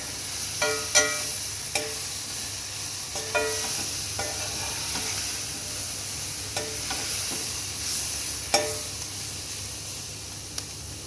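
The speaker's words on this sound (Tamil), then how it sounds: "இது எல்லாத்தையும் சேர்த்துட்டு நல்லா ஃப்ரை பண்ணி விட்டுக்கலாம்" Steady sizzling of capsicum rice ingredients frying in a pan with intermittent scraping clinks of a utensil stirring, fairly close, no voices.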